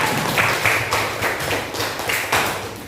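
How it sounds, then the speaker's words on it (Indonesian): Classroom students clap for a group, with uneven, scattered hand claps at moderate loudness and a low hum underneath. "tepuk tangan buat kelompok 3."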